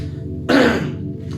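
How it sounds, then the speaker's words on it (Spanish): A single cough, loud and close, bursts out midway through a Spanish-language sermon against a steady low background hum, fading quickly without any talk around it. "Perdón por la tos."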